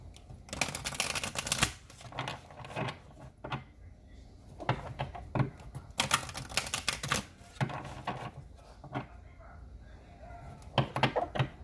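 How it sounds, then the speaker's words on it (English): Green Witch Oracle cards shuffled by hand, close papery riffles and taps that come in irregular bursts, with quiet gaps between them. "So let's take a couple Green Witch Oracle cards."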